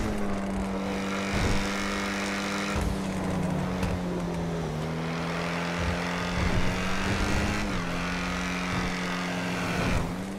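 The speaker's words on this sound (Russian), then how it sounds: "Переходим к звуку двигателя." Video game Ocelot Jugular sports car engine, a steady buzzing drone heard up close that rises in pitch and then briefly drops at each gear shift, repeating several times, with no speech over it.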